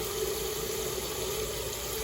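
Water pours into a water filter as it is filled, making a steady, continuous rushing flow with no breaks and no voices.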